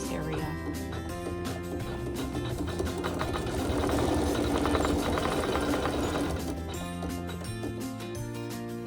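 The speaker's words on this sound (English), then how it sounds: "you're going to sew some quilting right here" Embroidery-capable sewing machine, a Navigator 10 or 20, stitching quilting into a hooped block; steady rapid mechanical whirring and needle clatter fills the whole stretch, swelling louder midway then easing slightly, with no talk.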